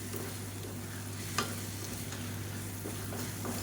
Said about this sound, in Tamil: சிம்மிலே விட்டு நல்லா கிளறி கிளறி கொடுக்கணும்